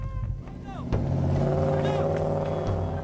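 A car engine strains and revs while stuck in sand on rough terrain in Botswana, rising to a sustained labored drone after a sharp jolt, with voices talking over it.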